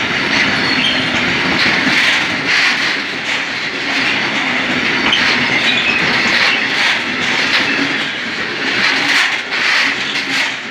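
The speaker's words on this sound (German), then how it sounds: "kommt noch ein Zug." A train passes through München-Riem station, loud and close, with continuous rumbling, rhythmic clickety-clack of wheels over rail joints and faint wheel squeal, no voices.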